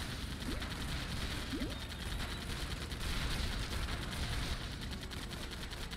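Gunfire from the Lego Batman video game: a steady, rapid mechanical rattle of shots running continuously under game sound, with a few faint chirps early on.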